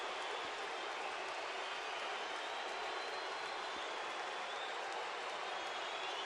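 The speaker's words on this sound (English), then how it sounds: "people who are booing are becoming more pronounced as the night has gone on" A baseball crowd at the ballpark sends a steady, broad roar with a low, sustained booing quality, filling the whole stretch at an even level with no clear breaks or individual voices.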